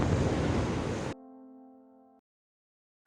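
Ocean waves breaking on a beach roar loudly for about a second, then cut off abruptly into sustained, steady musical tones.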